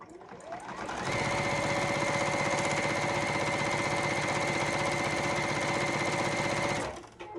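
A sewing machine chain-piecing fabric strips with a quarter-inch seam starts up after a second and runs at a steady, fast, loud whir for about six seconds before stopping.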